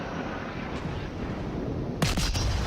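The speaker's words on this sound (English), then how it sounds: "I've got my first couple salvos off" Naval gun salvos from the HMS Edinburgh cruiser in World of Warships: a steady low rumble of distant fire, then a sharp, loud multi-shot blast near the end.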